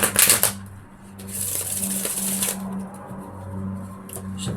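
Tarot cards shuffled in two bursts, a quick riffle at the start and a longer run of crisp flapping and sliding, recorded close with a low hum underneath.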